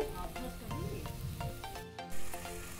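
Chopped onions, drumsticks, okra, tomatoes and carrots go into a pot of hot oil for moong dal charu and sizzle steadily. A few light knocks are heard and faint voices sit underneath.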